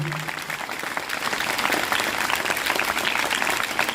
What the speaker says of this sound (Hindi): आपकी कमजोर तालियां कहीं कविता को कमजोर न कर दें।